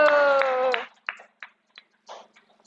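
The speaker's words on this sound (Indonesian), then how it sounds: "tepuk tangan untuk Mas Kenzo" In a school classroom, a drawn-out voice is followed by a few scattered, uneven claps from children applauding a pupil, Mas Kenzo, each clap distinct against near silence.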